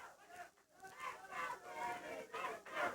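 Crowd at a Memphis wrestling match cheering and yelling in surges, a loud distant roar rising and falling with chants throughout.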